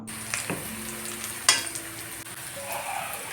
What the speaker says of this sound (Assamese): অলপমান ৰঙচুৱাকৈ ভাজিম ভাজাৰ পাছত মোটামুটি ভাজা হৈছে